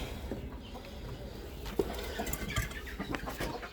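Ordinary chickens wander on a farm, soft scattered clucks close by over a murmur of background noise.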